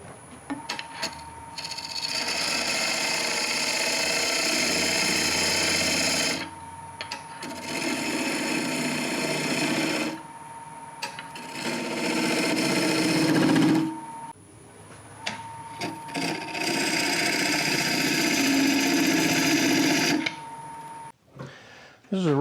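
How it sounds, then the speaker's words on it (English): Woodturning lathe cutting a wooden hollow form, with loud sustained bursts of tool-on-wood scraping and whirring, separated by brief pauses, and a voice talking at times. "Get the center point right on center. And cut in with the outer point."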